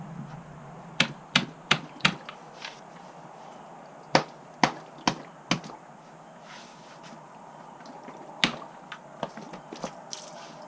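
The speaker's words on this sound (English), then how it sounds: "we're going to take the mallet here and just tap it, and it should pop it loose" A mallet tapping the bolt of a Hayward pool filter to knock it loose, sharp hard knocks in quick clusters of three or four with pauses between, then a few lighter taps at the end, close and distinct.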